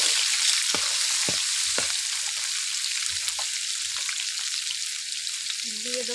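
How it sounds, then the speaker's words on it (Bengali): Shrimp hit a hot pan with a bright, steady sizzle close by. Crackles and pops run through the hiss, and a faint tonal sound comes in near the end. "দিয়ে দেবো চিংড়ি মাছগুলো। এই দেখুন চিংড়ি মাছগুলো দিয়ে দিচ্ছি।"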